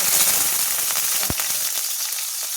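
Mustard seeds and green chilies frying in hot oil in a pan, a steady close crackling sizzle with a sharp pop partway through, no voices.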